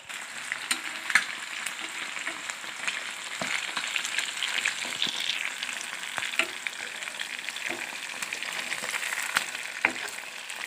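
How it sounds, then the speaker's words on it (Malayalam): Yogurt- and paste-marinated chicken half-frying in a pan for biryani, a dense, continuous crackling sizzle close by, punctuated by frequent small pops and light stirring taps. "ഇത് ഞാനിപ്പോൾ ഒരു ഹാഫ് വേവിലാണ് ചിക്കന് ഫ്രൈ ചെയ്തെടുക്കുന്നത്"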